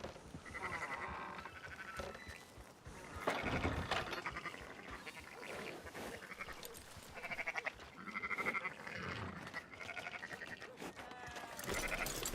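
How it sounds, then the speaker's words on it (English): Sheep bleating in the video game Red Dead Redemption 2, several quavering bleats coming and going at low level against quiet game ambience. "Hey, fine sheep."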